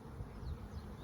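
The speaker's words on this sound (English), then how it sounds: "There are lots of bees, everybody." Dense swarm of honeybees buzzing around an open hive, a steady close low drone with no talk over it.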